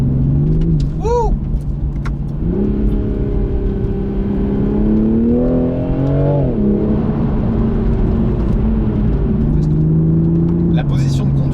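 Toyota GR Supra's 3.0 turbo engine accelerating from inside the car: a loud, steady drone rises in pitch through gear changes, with turbo whoosh, while someone talks over it.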